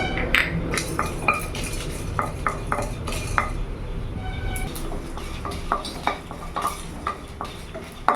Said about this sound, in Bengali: এটা আমি শুকনো কড়াইতে ভেজে নেব